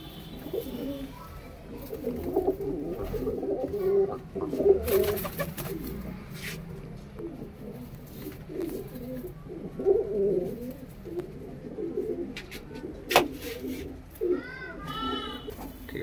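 Several Punjabi pigeons coo intermittently nearby, low rolling calls repeating through the scene with scattered clatters and light background noise, and a few brief sharp chirps near the end.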